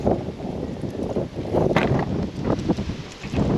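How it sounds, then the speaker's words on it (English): Outdoor wind blows and gusts against the mic, a continuous low roar that swells and eases over a few seconds. "Nice windy day today."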